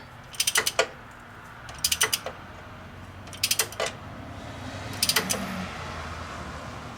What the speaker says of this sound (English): support your socket or your ratchet here before you just torque it